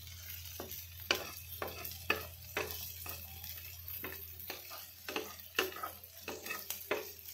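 Pizza topping frying lightly in a pan with butter and being stirred, quiet sizzling broken by repeated scraping strokes of a spoon in an uneven rhythm.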